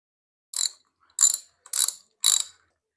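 A ratchet wrench tightens a bolt on a motorcycle clutch cable plate: four short, crisp bursts of clicking about half a second apart, close and fairly loud, with silence between them.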